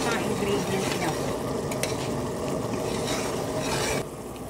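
Buttered shrimp, crab and octopus with sweetcorn are stirred in a hot pan, a close continuous sizzle with scraping utensil strokes and no speech.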